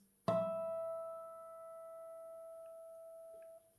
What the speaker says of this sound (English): That's a harmonic played on it.